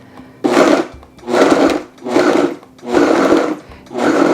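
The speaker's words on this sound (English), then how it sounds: "I have everything in my blender. And now what I'm gonna do is I'm just going to pulsate it." A blender pulses tomatillo salsa in five loud, close bursts of churning whir, each about half a second to a second long and separated by brief pauses.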